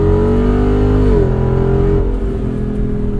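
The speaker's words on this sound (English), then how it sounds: "Spinning all four wheels." A Jeep Wrangler with 315 tires holds a loud, steady engine drone while spinning all four wheels on a dirt road. The pitch drops partway through and then settles into a lower rumble with rough texture.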